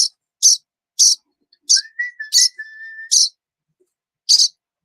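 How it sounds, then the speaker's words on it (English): A person whistles a series of short, sharp, high chirps in an irregular rhythm, with one longer level tone in the middle, calling a pet in a quiet room. "She whistles to it"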